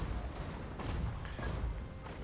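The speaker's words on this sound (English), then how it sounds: "A few hits from the cannons." Cannon fire from a fantasy battle in Total War Warhammer, Orcs against Dwarfs, comes through as a few dull booms over a dense, steady rumble of battlefield noise.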